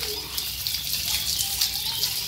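Water sprays onto the walls of a newly built village house, a steady broadband hiss and gush that runs throughout at an even level.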